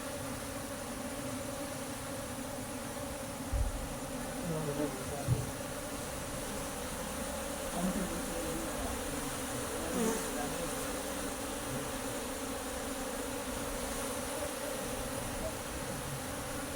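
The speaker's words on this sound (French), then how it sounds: "le nombre d'abeilles augmente de façon exponentielle au jour le jour" Bees swarm inside a sacred bee chamber, a dense continuous buzzing drone that stays loud and even for the whole stretch, with a few soft bumps.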